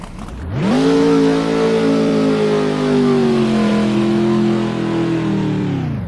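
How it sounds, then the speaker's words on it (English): A Pro Mod drag racing car revs hard in the water box at a drag strip, its engine roaring loud and close with a steady, sustained high-power drone for several seconds before easing off slightly. "Mighty Joe rolling into the water box right now."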